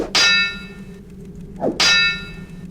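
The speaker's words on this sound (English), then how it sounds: "That has a metal sound." Two sharp metallic clangs as a metal object is struck in the video game Thief: The Dark Project, each ringing out briefly before fading, about a second and a half apart, with a faint scrape before the second strike.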